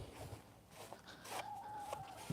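Backyard hens give low, soft clucks close by, with a brief, slightly higher call partway through.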